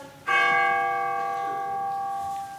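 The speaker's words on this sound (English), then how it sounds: "The bell struck" A single church bell strike marking the hour during a school stage production of A Christmas Carol: one loud, clear clang followed by a long ringing, slowly fading hum.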